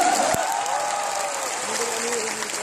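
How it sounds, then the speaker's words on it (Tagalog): Loud, sustained applause from a big crowd at a marketing seminar in the MOA Arena fills the space, steady and dense, with a voice speaking over the clapping. "Malakas na palakpak!"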